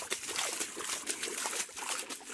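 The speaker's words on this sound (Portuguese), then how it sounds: "Vamos voltar e ver a queda d'água." Water trickles and splashes at a small waterfall in the outdoors, a close, continuous bubbling flow with no voices.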